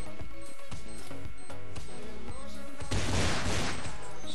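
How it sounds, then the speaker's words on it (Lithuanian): Rapid automatic gunfire in a video game shooter, dense bursts over game music and effects, swelling into a loud sustained volley near the end. "Sušaudo čia visus."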